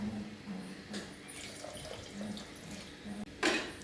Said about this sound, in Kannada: ಇವಾಗ ಈ ಸ್ಟೇಜಲ್ಲಿ ನಾನು ಅದಕ್ಕೆ ನೀರು ಹಾಕ್ಕೋತಾ ಇದ್ದೀನಿ